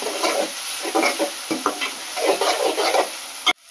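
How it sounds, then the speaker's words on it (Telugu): Stirring and slow frying in a pan until golden brown, with ridged gourd and moong dal on the menu: a steady close sizzle broken by repeated scraping strokes, then an abrupt bump and near silence at the end. "ఇలా కలుపుతూ గోల్డెన్ బ్రౌన్ కలర్ వచ్చేంత వరకు స్లోగా వేయించుకోవాలి."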